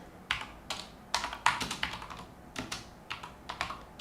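A person types on a computer keyboard nearby, the keys clicking in quick, uneven bursts and single taps with brief pauses.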